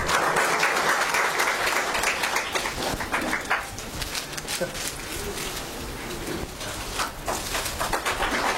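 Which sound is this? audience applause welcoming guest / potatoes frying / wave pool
audience applause welcoming guest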